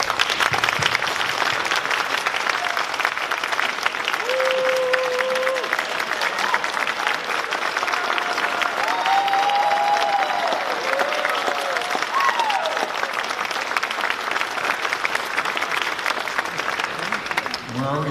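Families and friends stand for a long, sustained round of applause at a physical therapy white coat ceremony, a thick, even roar of clapping with scattered cheers and whistles rising above it and some voices underneath.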